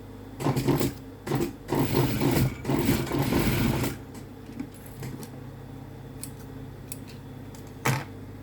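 A sewing machine stitches a trouser-leg seam on Levi's jeans, shortened to a seven-inch leg, in several close, loud bursts of rapid mechanical stitching, then falls mostly quiet with small handling clicks and one brief final burst.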